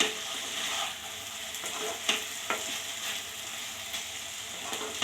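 Potatoes with egg frying in a pan while being turned: a steady close sizzle with a few sharp scraping clicks, no voices.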